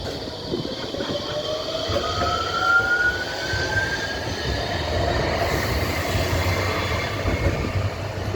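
A Nottingham tram rolls past for over eight seconds, a steady low rumble of wheels on rail with a rising metallic whine and faint squeal, close and fairly loud throughout, no talking.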